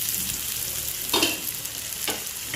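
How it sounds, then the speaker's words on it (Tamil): Tomatoes sauté in a pan as the base for a spicy Tamil egg gravy, with a steady sizzle and a couple of short stirring scrapes partway through, heard alone without any voices. "தக்காளி நல்லா வதங்கி வரணும்."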